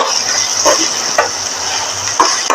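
Green chilli, curry leaves, ginger and garlic sauté in a hot oiled pan for tomato chutney, giving a loud, steady sizzle close up, broken by a few scraping stirs of a spoon.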